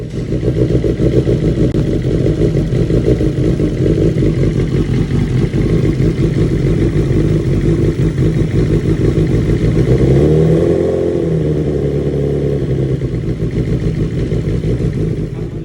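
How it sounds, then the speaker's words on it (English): Suzuki GSXR1000 grass track bike with dry sump engine running on petrol with a rough map, a loud close steady idle with a throbbing, uneven rumble and a brief dip in pitch near the end. "So that was a video of the bike running."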